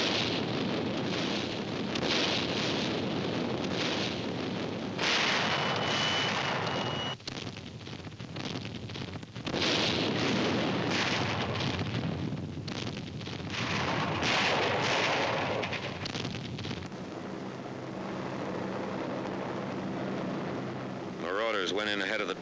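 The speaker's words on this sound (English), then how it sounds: "The naval bombardment continues." Naval bombardment off the Normandy coast, a dense continuous roar of distant explosions and gunfire with rumbling surges and brief dropouts, loud throughout, later easing into a lower steady rumble.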